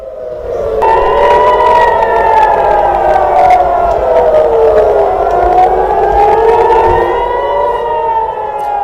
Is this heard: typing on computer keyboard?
no